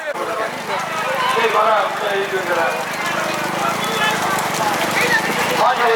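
Racing bulls pulling carts in a bullock cart race at Chinnamanur, a busy rumble of hooves and wheels amid a crowd, with a commentator talking loudly throughout.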